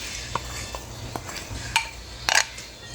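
A spoon scraping and clinking against a pot while egg is stirred into biryani rice with chicken, a few light metallic taps and scrapes over a quiet kitchen hum.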